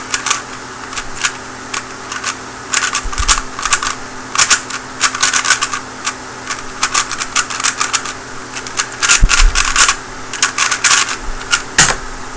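A clicky speed cube being turned rapidly during a solve, giving dense bursts of sharp plastic clicks and clacks in quick irregular flurries with brief pauses, close and fairly loud.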